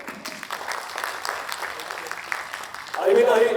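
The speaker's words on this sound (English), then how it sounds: "Can we have a louder round of applause?" A conference crowd at an innovation pitch event claps; applause runs underneath and between a voice over a PA, then swells louder near the end.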